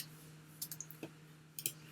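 Mouse clicks during 3D modeling work in Blender: a few sharp, quiet clicks, some in quick pairs, spaced irregularly over a soft background hum with no speech.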